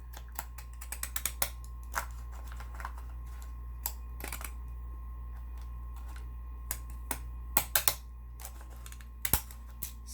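Scissors cut paper for a small Halloween gift bag made from two 6x6 sheets, giving quiet, irregular snips and clicks that come in small clusters and are separated by near silence.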